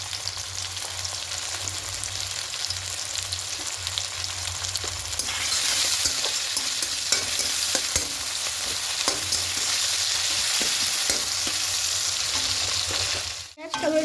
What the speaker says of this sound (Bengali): এখানে পরিমাণ মতো লবণটা দেবো, তাহলে পেঁয়াজ আর টমেটোটা খুব তাড়াতাড়ি নরম হয়ে ভাজা হয়ে যাবে।